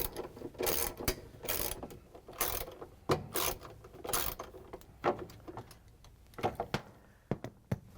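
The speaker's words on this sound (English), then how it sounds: "So we're going to use the 3/8" socket with a ratchet and an extension to remove the bolts." A ratchet with a 3/8 inch socket and extension backs out bolts on a GE washing machine, giving close, sharp clicking bursts in an uneven rhythm, with short gaps between strokes and no voice.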